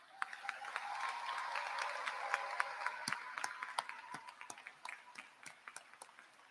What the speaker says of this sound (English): I ask all the attendees to please join me in a round of applause for our